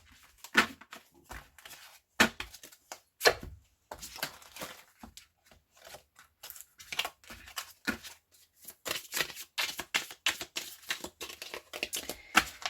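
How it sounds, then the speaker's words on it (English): Tarot cards are shuffled by hand in a run of crisp, irregular riffles and taps, close and fairly quiet, coming in quick bursts with short pauses between them. "so let's just give these a little shuffle."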